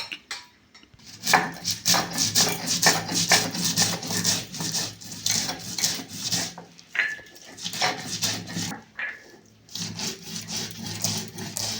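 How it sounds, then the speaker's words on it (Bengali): Mustard seeds and poppy seeds ground in a bowl: a busy run of rapid scraping and knocking strokes against the vessel, close and fairly loud, with brief pauses between bursts. "আমি সর্ষে পোস্ত বেটে নেবো ভালো করে"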